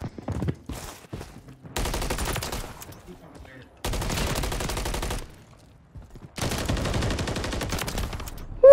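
Bursts of MCW rifle gunfire from the video game MW3 in ranked play, three long automatic strings separated by short pauses, loud and close, with brief talk in between.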